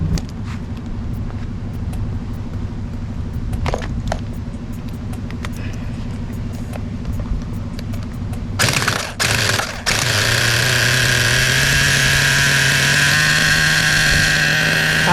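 A new nitro RC car engine sputters and catches around the midpoint during break-in, then runs steadily with a loud, buzzing high-pitched drone, after a stretch of low background rumble.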